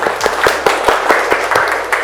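Audience clapping at a university teaching session, a short spell of scattered, uneven claps from a small group, fairly close and distinct.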